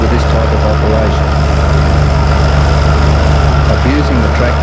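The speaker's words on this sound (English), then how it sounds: "Abusing the tractor, operating in too high a gear, second gear in this instance" Tractor ripping a contour bank while labouring in too high a gear (second), a loud, steady, low engine drone with a constant throbbing hum throughout.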